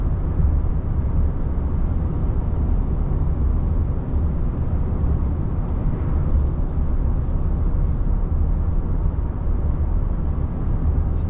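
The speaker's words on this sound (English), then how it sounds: "Some of the noise you're hearing is actually road noise." Steady low rumble of road noise inside a 2024 Nissan Frontier Pro-4X pickup while driving, a constant dense hum filling the cabin with no talk over it.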